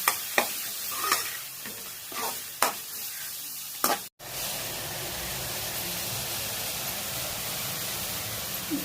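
Chopped tomatoes fry in a pan for a Chettinad-style chicken gravy, giving a steady close sizzle throughout, with a few louder stirring scrapes in the first seconds and a brief sharp break near the middle.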